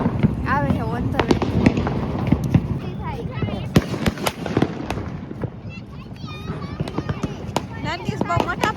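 Diwali firecrackers burst in a rapid series of sharp pops and crackles at a family celebration, while adults and children talk and shout over the blasts.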